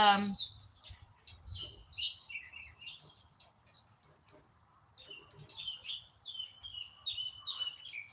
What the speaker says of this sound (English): the birds sound really nice.